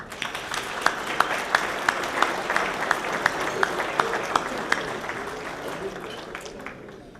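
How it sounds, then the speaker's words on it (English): Audience round of applause at a hall of fame event, a sustained, fairly loud crowd clapping with individual sharp claps standing out and a voice heard over it as it tapers off. "please, everybody give yourselves a round of applause"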